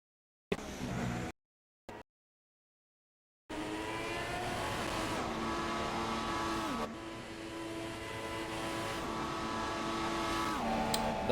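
Race cars in a racing video game, engines droning steadily with rising and falling revs after a few brief clipped bursts, loud and continuous with no talk.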